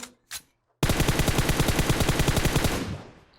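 Gunfire in the mobile battle-royale game PUBG Mobile, set in a winter ice map. Two quick isolated shots come first, then a close, loud burst of rapid automatic fire that rattles for about two seconds before fading.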